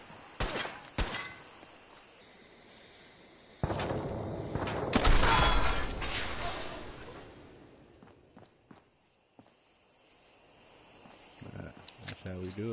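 Gunfire in the video game Fallout 4: sharp bursts of shots, with a longer loud volley in the middle, then quieter movement and scattered clicks, heard close and separated by quiet gaps.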